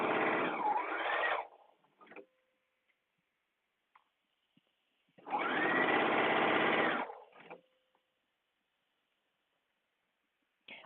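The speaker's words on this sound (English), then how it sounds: "I'm sewing now." Sewing machine stitching a simple day dress: two sustained bursts of motor whirring with speed changes, each followed by small clicks, separated by quiet pauses.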